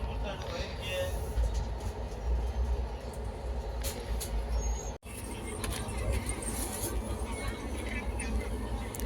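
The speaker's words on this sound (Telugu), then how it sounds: "ఇదిగో ట్రైన్ బయలుదేరిపోయింది" A train departing Vijayawada for Tirupati rumbles steadily with low mechanical noise and clatter, moving along the track, while people talk over it.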